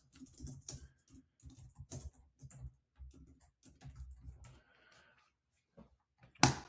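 Quiet, close typing on a computer keyboard comes as irregular light taps and short runs of keystrokes with pauses between, ending in one louder sharp click.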